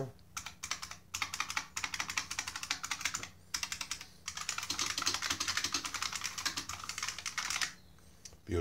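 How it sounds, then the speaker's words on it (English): Keys clack in fast, steady bursts on a modified IBM Model M mechanical keyboard, close and crisp, with short pauses between runs of typing. "This is a kick-ass keyboard, man."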